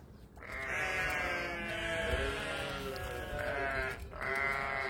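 Flock of ewes bleating continuously and close by as they crowd in, several overlapping harmonic calls filling the whole stretch with brief dips between cries; no talking.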